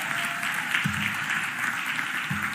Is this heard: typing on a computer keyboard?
no